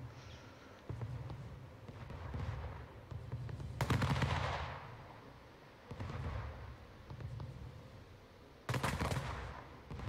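Cannon and gunfire from a naval battle near a harbor in the game Anno 1800 come in rolling bursts, with several loud volleys separated by quieter stretches of rumbling.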